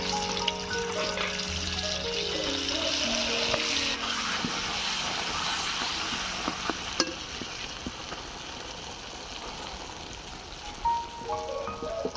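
Chana dal paste fries in oil and ghee for a sweet halwa, a steady close sizzle and crackle with soft stirring scrapes throughout, easing slightly toward the end.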